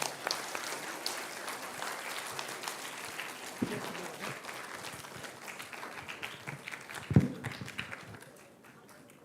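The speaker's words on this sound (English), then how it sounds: "A huge round of applause for him." Audience applause at an entrepreneurship event honoring a guest speaker, a steady wash of clapping across the room with a few louder claps near the end before it fades.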